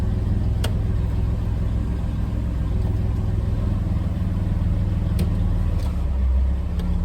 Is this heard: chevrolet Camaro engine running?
yes